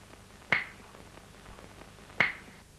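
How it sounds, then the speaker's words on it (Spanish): Two crisp finger snaps, about 1.7 seconds apart, sound alone and fairly quiet against a faint background on a late-1980s television program. "un chasquido de los dedos puede salvarnos la vida"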